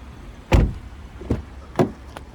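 The rear seat of a 2019 Chevrolet Impala LT clunks back into its locked position. One firm thud is followed by three lighter clicks and knocks, close and distinct in a quiet car interior.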